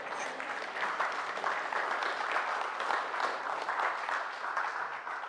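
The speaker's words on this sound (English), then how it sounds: "give yourselves a round of applause" A crowd gives itself a round of applause: steady, dense clapping from many hands that holds at an even level from start to finish, moderately distant.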